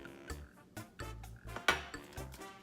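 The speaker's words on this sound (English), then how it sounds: "Spread that peanut butter." Knife spreading peanut butter on sourdough bread: soft repeated scrapes and light taps of the blade, about half a second apart, close and quiet with no talking.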